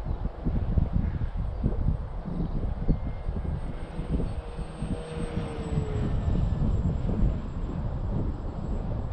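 Rough, gusty wind noise roars across the microphone at an outdoor flying field on a model plane's maiden flight, with a faint airplane engine drone running underneath throughout.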